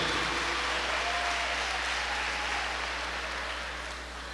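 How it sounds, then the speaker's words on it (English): Applause from the audience at the 2022 ESPN West Palm Top 63 awards evening, a dense, even wash of clapping that holds steady over a low hum and tapers slightly toward the end. "Congratulations and a round of applause for those tonight on our top 63."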